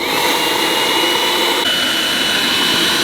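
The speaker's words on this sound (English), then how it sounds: "to use one of these electric blowers" An electric blower inflates a packraft with a steady, loud whooshing roar of rushing air. It holds constant and close throughout, with no talk.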